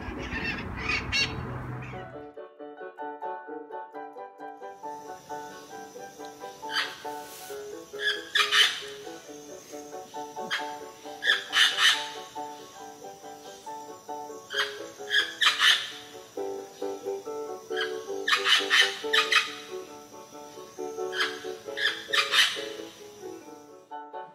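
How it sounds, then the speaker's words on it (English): A flock of Amazon parrots feeding on dates in a palm tree in the Los Angeles area squawks in repeated loud, harsh bursts, several birds calling over one another at close to mid distance. "Here you can see a flock of Amazon parrots feasting on dates in a palm tree"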